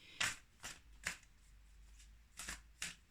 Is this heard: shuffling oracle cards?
yes